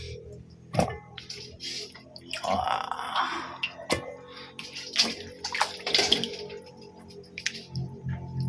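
Food being washed thoroughly by hand in a basin of water, with sloshing, splashing and dripping sounds in bursts that come and go, plus a few sharp knocks against the container. It is fairly close and clear, and nobody speaks.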